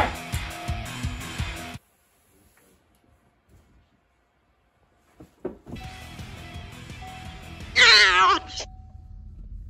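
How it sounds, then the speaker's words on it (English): Cat meows from a video game, a rising, wavering cry that briefly rises clearly above loud game sounds, after a stretch of near silence. "Was that a cat?"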